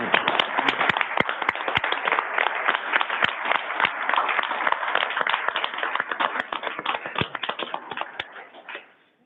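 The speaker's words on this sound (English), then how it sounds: "So can we give them a round of applause as well?" Audience applause at a school district board meeting, a steady patter of individual claps from a modest crowd, moderately loud and tapering off at the end, with no talk.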